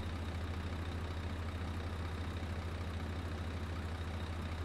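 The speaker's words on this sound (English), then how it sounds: "Engine." A farm vehicle's engine idles in Farming Simulator 17, holding a steady, even low drone with a constant hum and no change in pitch.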